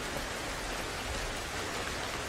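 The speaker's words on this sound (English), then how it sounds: "Can you hear our life-giving rain as it pours down on country into our waterways and is filtered through the earth into our aquifers?" Steady rain pours down in a dense, even hiss of countless drops, continuous and moderately loud with no voices over it.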